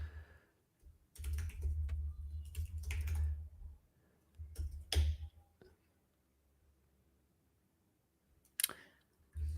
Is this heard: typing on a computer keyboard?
yes